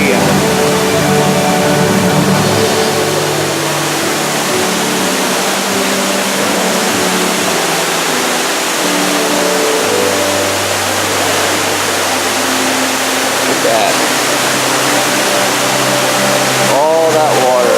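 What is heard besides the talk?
Ruby Falls underground waterfall pouring down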